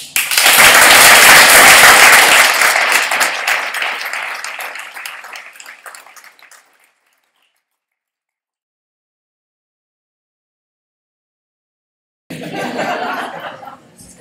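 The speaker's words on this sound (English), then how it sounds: "I'll just ask for a final round of applause." An audience at a Leeds improvement-method report-out gives a final round of applause, loud clapping that tapers off over several seconds into silence before a short burst of crowd noise returns.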